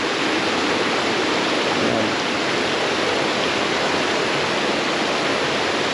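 Water flowing down from the mountains in rural Samar, a loud, steady, broadband rush like a stream or small waterfall, close and constant with no voices.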